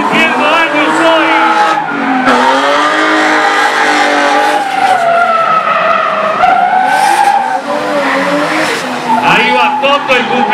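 Drift cars, including a Toyota GT86, screech with sustained tire squeal and revving engines at a national drifting final, loud and continuous, while a commentator talks over it.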